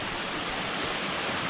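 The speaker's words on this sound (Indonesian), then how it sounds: "Ada juga air terjun yang bagus." The Kembang Soka waterfall gives a steady, dense roar of falling water, loud and unbroken throughout with no voices over it.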